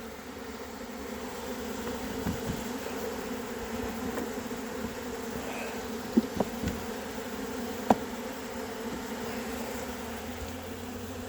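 A steady, dense hum of a honey bee swarm buzzing together while being hived, with a few faint clicks and knocks nearby.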